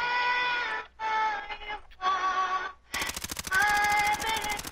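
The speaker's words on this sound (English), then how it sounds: "They're shooting at him." Rapid automatic gunfire rattles in Call of Duty: Warzone, a long sustained burst of close shots over droning in-game sound, with steady rhythmic repetition.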